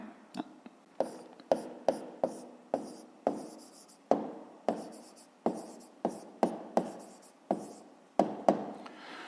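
A pen scratching on paper while working a fifth-grade math exercise, short strokes in an irregular rhythm, close and clear with no talking.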